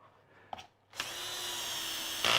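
A power drill drives 1.25 inch coarse screws into wood in one steady, loud whine that ends sharply, after a brief short burst and a quiet pause.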